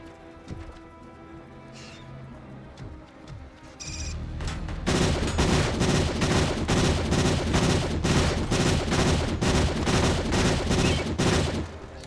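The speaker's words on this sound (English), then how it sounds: "Wait, don't I have full auto? Nope. Only burst rounds." Video game burst-fire gunshots: a few quiet isolated shots, then from about four seconds a loud, steady stream of rapid bursts that keeps going to the end.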